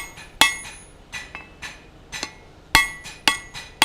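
A blacksmith hammers hot steel on an anvil while forging a taper, sharp metallic ringing blows landing one after another at an uneven pace, some louder, with brief lighter taps between them. No talking.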